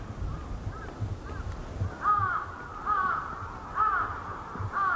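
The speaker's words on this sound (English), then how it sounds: "The cries of distant crows, the loudest noise that you can hear." Crows cawing in the distance over the ruined tsunami-struck fishing port of Kesennuma, Japan, their harsh calls repeating in a steady series of caws over a low, quiet background.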